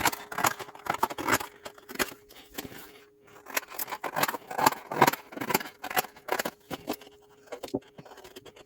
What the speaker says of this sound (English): then I cut it out with a pair of scissors